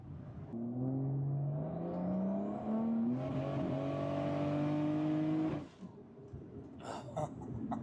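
A car fitted with upgraded Supra brakes accelerates hard, its engine pitch climbing steadily through the revs before cutting off abruptly. A faint clatter and a brief cough follow in the quieter tail.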